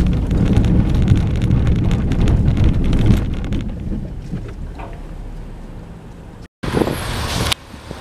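Car rolling on a slashed, flat tire: loud rumbling, flapping road noise with heavy wind buffeting for about three seconds, easing into a quieter rolling drone, then a sudden dropout and a brief burst of noise.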